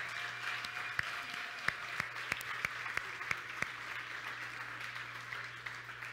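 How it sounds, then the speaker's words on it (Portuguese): A church congregation applauds a couple with steady clapping from a moderately distant crowd, several louder individual claps standing out, and a low hum underneath. "Uma salva de palmas para ele."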